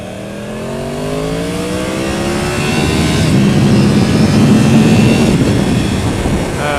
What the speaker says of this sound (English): there's your clutchless shifting